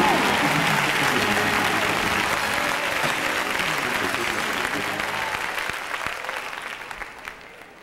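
A church congregation claps loudly and continuously, a dense roar of applause that gradually fades out over several seconds, with faint voices mixed in.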